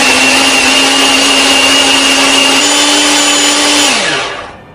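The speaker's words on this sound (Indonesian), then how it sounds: "Bumbu ini akan kita haluskan menggunakan chopper ya." An electric kitchen chopper grinds curly red chilies, shallots and garlic in a loud, steady whir that holds its pitch for several seconds and then winds down as the motor stops.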